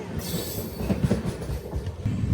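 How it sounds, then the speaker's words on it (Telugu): An Amrit Bharat Express train pulls out of a station, with a continuous rumble of wheels and a rattling clatter of railcars rolling past nearby. "ఇప్పుడు వెళ్ళింది కదా బండి"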